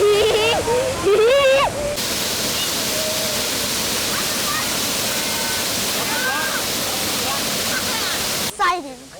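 Steady, loud broadband rush of water from a waterfall fills most of the clip, heard up close with a family nearby; voices briefly at the start and end.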